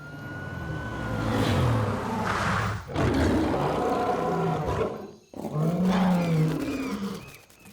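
Cartoon lions, tigers, cheetahs and panthers roar together in a loud, sustained chorus, with two brief dips in the din before the roaring surges back.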